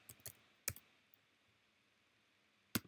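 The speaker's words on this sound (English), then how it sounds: "and then type color" A few isolated keystrokes on a computer keyboard while HTML and CSS code is typed, sharp close clicks spaced apart over a quiet background.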